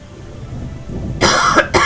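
Two short, harsh coughs from a person in the Sumatra setting of a game, sudden and close over a low background murmur, the second following quickly after the first.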